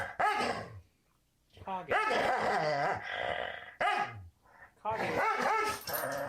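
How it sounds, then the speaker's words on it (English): A dog growls, then breaks into bursts of barking and whimpering in a close indoor space, and a person calls the dog's name between the outbursts. "What are you growling at"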